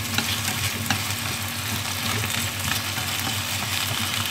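Potatoes stir-frying with garlic in a hot pan, giving a steady dense sizzle and crackle with faint stirring, close and continuous without speech.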